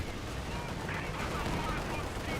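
Incendiary mortar fire in the strategy game Company of Heroes 2: a dense, continuous rumble of battlefield explosions and gunfire, steady and moderately loud without clear gaps, with no speech.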